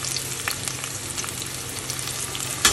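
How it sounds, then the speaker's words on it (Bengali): Onion, tomato and green chilies frying in a pan, a steady close sizzle that continues without a break for the whole stretch, with faint scrapes of stirring and a short louder knock at the end. "পেঁয়াজটা একটু লাল করে ভেজে নিয়ে টমেটো,"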